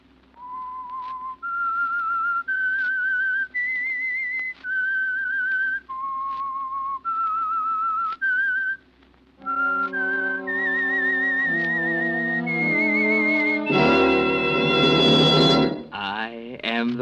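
The theme tune of the 1945 radio drama The Whistler is whistled clearly, note by note, then a full orchestral theme swells in and carries the melody to a loud finish.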